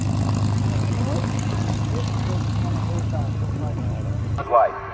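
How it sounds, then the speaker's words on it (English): An Australian-built CAC Mustang's piston engine drones steadily at an airshow, a loud, low propeller rumble sustained under an announcer's voice, ending with a sudden drop near the end. "Paul Bennett in the Australian-built CAC Mustang."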